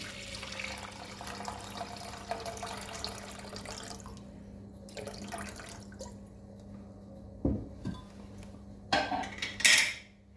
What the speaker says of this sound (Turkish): Tenceremize yarıya yakına kadar su dolduralım